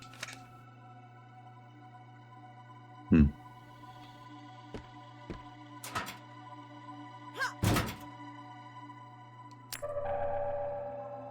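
Kicking a locker in the video game Crow Country: several sharp metallic thunks spaced a few seconds apart over a steady low game hum, ending with a rising mechanical tone.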